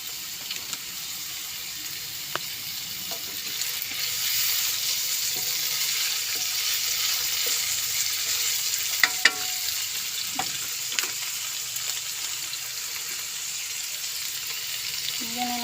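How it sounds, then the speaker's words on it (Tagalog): Pork liver and pork slices sauté in a pan with a continuous bright sizzle, broken by occasional scrapes and clinks of a utensil stirring, close and steady with no talking. "Yan, gigisahin lang natin guys."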